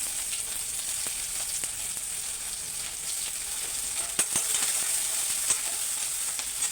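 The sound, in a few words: onions frying in oil in a pan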